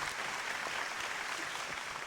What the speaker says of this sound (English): Get some applause for AI.